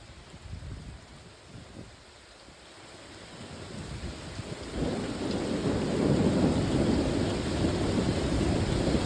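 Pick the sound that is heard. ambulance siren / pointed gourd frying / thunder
thunder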